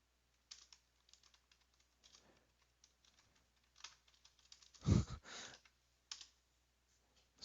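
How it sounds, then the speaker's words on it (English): Quiet, close keystrokes tap irregularly on a computer keyboard, with one louder thump partway through and a few scattered clicks afterward. "I'll just type it out"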